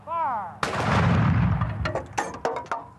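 A historic artillery cannon at the U.S. Army's artillery school at Fort Sill, Oklahoma fires one loud, close booming blast, followed by several sharper, shorter reports that fade away.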